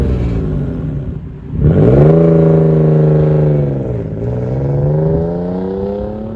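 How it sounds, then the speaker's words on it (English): Toyota FJ Cruiser with a manual gearbox pulling away on the road, the engine note rising steadily through first gear, dipping briefly at a gear change, then climbing again, loud and close from inside the cabin. "Now let's get the FJ Cruiser onto the road and discuss even more."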